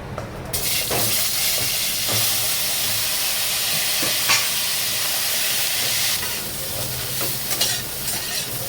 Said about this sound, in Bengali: এবার এই তেলের ভিতরে ফুলকপিটা একটু ভেজে নেব।